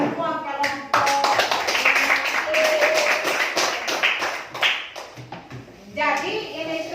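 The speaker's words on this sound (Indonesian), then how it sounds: "Tepuk tangan untuk semua kelompok." Classroom applause for all the student groups: a burst of clapping from many children, dense and close, lasting several seconds, with a teacher's voice before and after.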